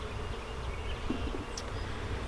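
Honeybees on a hive frame being split off into a nuc to prevent swarming give a steady, close, moderately loud buzzing drone that fills the whole stretch, with no voices over it.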